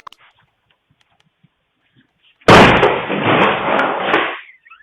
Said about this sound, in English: can be heard talking to his accomplices while he kicks down the door